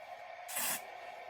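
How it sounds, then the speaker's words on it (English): Hairspray hisses from an aerosol can onto the hairline in one short, soft burst against a faint steady background. "Spray all your hairline."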